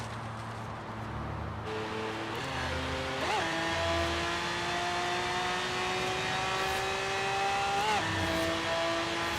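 Car engine accelerating in the Forza Horizon 3 racing game, a steady rising drone with two quick gear-shift dips as revs climb and fall, loud and continuous with no talk.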